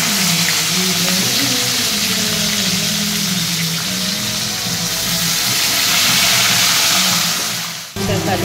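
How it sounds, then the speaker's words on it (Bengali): Prawns frying in a pan of hot oil in a home kitchen, giving a loud, continuous hissing sizzle that runs throughout before cutting off abruptly near the end. "এখন দেখো চিংড়ি মাছগুলোকে ভালো করে ভেজে নিচ্ছি"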